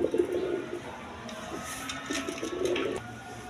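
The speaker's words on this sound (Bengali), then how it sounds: "দেখেন এগুলো হাই ফ্লাইং গিরিবাজ কবুতর" High-flying Giribaz pigeons cooing, two short throaty bursts at the start and near the end, close and quiet over faint background noise.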